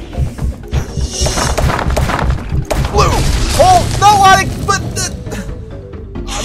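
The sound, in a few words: explosion in the Zuma's Revenge video game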